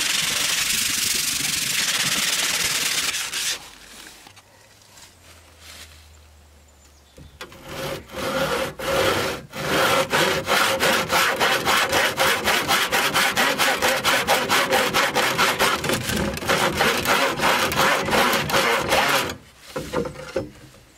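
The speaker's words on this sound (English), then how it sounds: "I'm gonna get to sanding and let's get this thing looking pretty." A power sander works over wood trim during a Helix 7 installation: a hiss at first, then a quiet pause, then a long steady buzzing run with rapid rhythmic scrubbing pulses, close and loud, stopping near the end.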